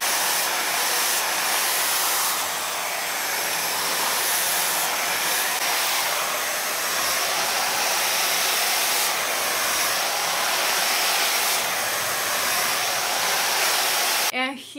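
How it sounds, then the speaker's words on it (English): A hair dryer blow-dries hair with a round brush, roaring loudly and steadily up close for the whole stretch before cutting off abruptly at the very end. "Now let's blow dry the hair."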